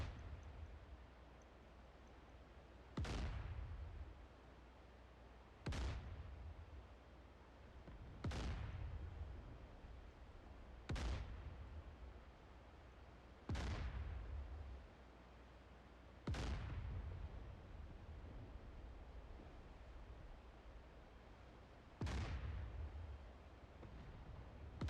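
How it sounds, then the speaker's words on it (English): Naval gun in DCS World firing one heavy shot at a time: seven booming blasts about every two to three seconds, each decaying slowly with a rumbling tail over a steady low background. "my naval gun is not doing much, is it? So let's continue firing. Rapid fire!"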